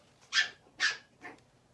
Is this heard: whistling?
no